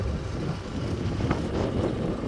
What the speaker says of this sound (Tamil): காற்று வந்து ரொம்ப பலமாக அடிக்குது பாருங்க